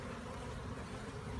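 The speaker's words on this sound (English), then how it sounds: "you can kind of see the bees bridging the gap here" Honey bees drone in a steady, close, continuous buzz during a swarm trap cutout, a low hum filling the scene without pause or talk.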